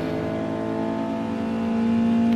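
A car engine in the GT Sport racing game holds a steady, buzzing harmonic drone that swells slightly louder toward the end, with no voices over it.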